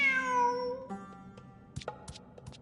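A cat lets out one drawn-out meow with a falling pitch, followed by small scattered clicks and rustles nearby, with no speech.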